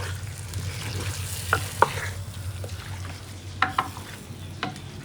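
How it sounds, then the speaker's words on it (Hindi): A spoon stirs masala into chicken frying in a pan for chilli chicken curry, giving a soft, steady sizzle with intermittent scraping knocks of the spoon and no voices. "मसाला शामिल करने के बाद आपने चम्मच को चलाना है और मसाले को चिकन के साथ"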